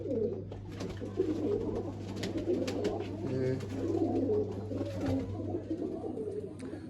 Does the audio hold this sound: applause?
no